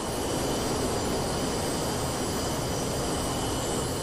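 A fighter jet's engine roars steadily in a PC VR flight game, a loud continuous broadband rush with no pauses.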